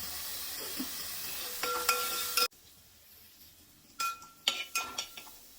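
Tomato chutney sautés in a pan with a soft sizzle, broken by several sharp clinks and scrapes of a spatula against the metal.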